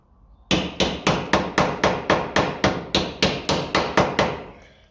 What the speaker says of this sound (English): I might just get a hammer and just shape it a little bit